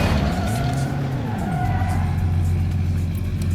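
A car in the BeamNG driving game skids and crashes on a bend, its engine pitch sliding down as the tires scrub, then settling into a steady low drone, loud and close with no voices.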